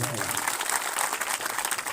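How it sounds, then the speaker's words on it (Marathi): An audience at a public meeting claps hard, a loud, dense round of applause that runs unbroken through the clip, with a voice faintly underneath. "एकदम जोरदार टाळ्या होत"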